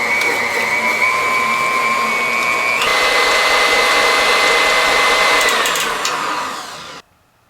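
An electric hand mixer whirs steadily while beating banana bread batter, a loud continuous motorized drone with a slight pitch shift partway through before it cuts off near the end.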